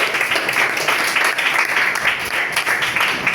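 A seventh-grade math class applauds the final presentation group, giving brisk, continuous clapping from many hands that stays dense and close throughout.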